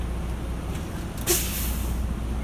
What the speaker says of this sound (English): If my needle does not start rising within 8 to 15 seconds, I'm going to pump my brake again.